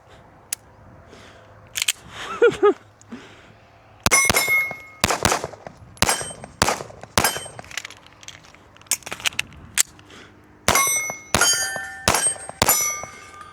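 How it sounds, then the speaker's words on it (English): A Staccato handgun's magazine is swapped and fired: metallic clanks and clicks early on, then a rapid string of sharp, close, loud reports with brief pauses between them. "we are going to do a mag change and just get it as fast as we can and see how she runs."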